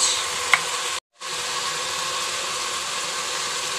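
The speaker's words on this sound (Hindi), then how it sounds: "और इन सब चीज़ों को हम गोश्त के साथ भून लेते हैं।" Meat (gosht) fries in a pan with red chili and turmeric, producing a steady, moderately loud sizzling hiss that drops out briefly near the start and then resumes evenly.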